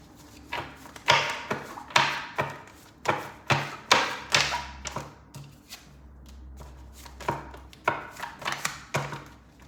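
A tarot deck is shuffled by hand, with repeated sharp card slaps and riffles in uneven bursts close up, and one card flipping out of the deck.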